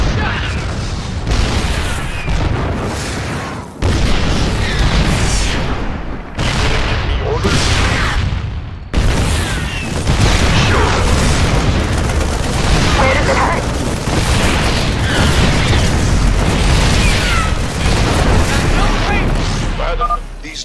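Siege tank artillery fire in StarCraft II: Wings of Liberty: heavy booms and blasts repeat throughout amid rumbling battle noise, loud and close, with a few brief quieter gaps between volleys.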